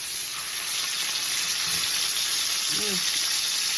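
Lamb chops, garlic and herb seasoned, sizzle steadily and loudly in a pan just after being flipped, a constant frying hiss with a voice briefly heard underneath.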